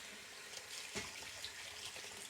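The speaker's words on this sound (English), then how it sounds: "I just bring them over here under the faucet. I fill this bowl pretty much full of water." A kitchen faucet runs water into a bowl, a steady faint hiss and splash that continues throughout without a break.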